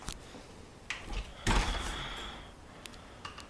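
A cracked back door is lifted and opened, giving a single loud scraping thud followed by a dragging rattle and a few small knocks.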